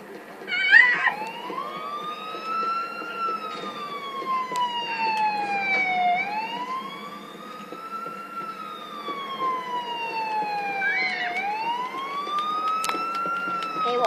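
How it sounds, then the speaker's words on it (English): A wailing ambulance siren in the video game GTA IV sweeps slowly up and down in pitch, repeating its cycle steadily at moderate volume, with a faint rumble beneath. "Oh, it's an ambulance."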